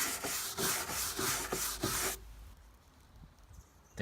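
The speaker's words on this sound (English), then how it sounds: "I'm going to use some brushes, the same stiff brush I used to clean it when it was wet, to take off the loose fibers" A stiff brush scrubs loose fibers off a new cedar deck in rapid back-and-forth rasping strokes, loud and close, then stops abruptly, leaving quiet.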